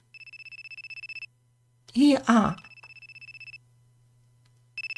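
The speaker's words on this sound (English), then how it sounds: "a ringtone went off in the living room. It was coming from Ayla's phone." A cell phone in a visual novel game plays a bright, pulsing electronic ringtone in even repeated beeps over a low steady hum. It stops while a voice speaks briefly, then starts again.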